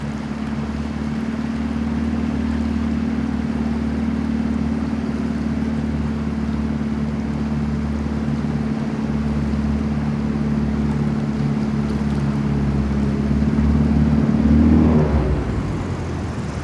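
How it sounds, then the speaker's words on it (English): A bush plane comes in to land on water just short of a snow-covered, slippery gravel bar, its steady engine drone holding loud and close, swelling near the end before cutting off sharply. "I'm going to use the water before the gravel bar to slow me down"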